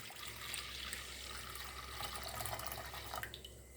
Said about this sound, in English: I'm going to put 2 cups of water